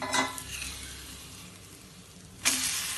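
A methi paratha fries on a hot pan with a steady close sizzle as the lid is handled, with a clatter near the start and another sharp metallic knock near the end as the lid turns over. No voices.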